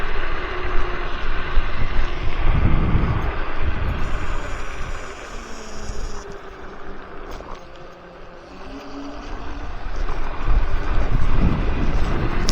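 Wind buffeting the microphone while riding a RoadRunner RS5 dual-motor electric scooter on a very windy day: loud, continuous roaring rumble that swells and dips, with faint whining tones from the ride underneath.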